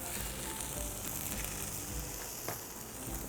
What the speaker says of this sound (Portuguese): a temperatura está correta, está bem quente essa frigideira. Agora a gente vira com carinho.